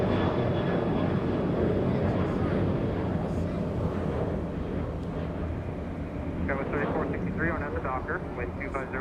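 An airliner takes off from runway 25 right at Los Angeles International Airport, its engines a loud, steady roar held throughout, while radio chatter from air traffic control is heard over it.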